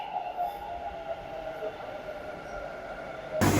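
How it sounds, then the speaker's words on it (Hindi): A metro train arrives at a Bangalore station with a sustained tonal whine and a rolling rumble that hold steady. A sudden louder rush of noise comes at the very end. "मेट्रो आ गई, देखो देखो मेट्रो"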